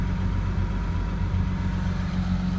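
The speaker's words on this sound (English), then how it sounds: "And for now the engine run way smoother than before" A BMW 335i engine idles smoothly with a steady low rumble throughout, close by and alone with no voices.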